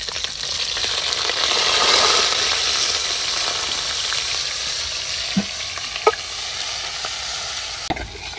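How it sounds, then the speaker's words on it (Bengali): Chopped onion hits hot oil with dried red chillies and cardamom in a kadai over an outdoor clay stove for village-style mutton curry; a loud steady sizzle swells then settles, with a few sharp utensil clinks near the end. "এবার এই গরম তেলের মধ্যে কুচি পেঁয়াজটা দিয়ে দিচ্ছি।"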